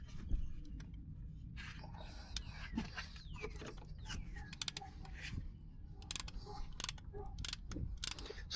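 A brake caliper piston compressor tool is cranked while fitting new EBC pads on a BMW G82 M4, giving quiet, close ratcheting clicks and mechanical creaks throughout.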